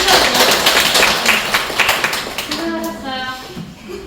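Applause from an audience of students at a job-preparation lecture at a Seoul girls' commercial high school, a dense burst of many hands clapping that fades as a voice begins talking over the end.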